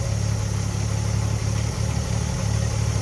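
A Triumph TR6 petrol injection engine idles steadily up close, a smooth even low rumble with a constant hum, running alone without voices.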